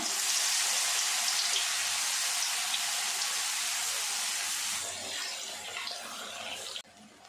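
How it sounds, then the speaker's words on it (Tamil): Urad dal vadas deep-frying in hot oil make a loud, dense, continuous hiss close by that softens partway through and cuts off sharply near the end. "வடை ஒரு பக்கம் நல்லா பொரிஞ்சு வந்துருச்சு"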